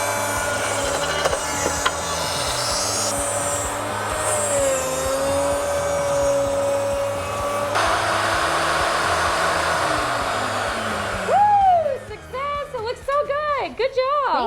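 A plunge router makes a quarter-inch pass through wood, a loud sustained high whine with a shifting pitch that dies away near the end. A person speaks under it and over the closing seconds.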